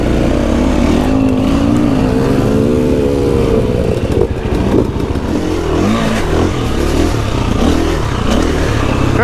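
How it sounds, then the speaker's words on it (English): A 2021 Husqvarna FE 350 off-road motorcycle engine drones loud and close, its pitch rising and falling through revs on a singletrack trail, with a rough clattering edge and no talking. "2021 Husqvarna, what is this, FE 350. It's an off-road bike, but not street legal."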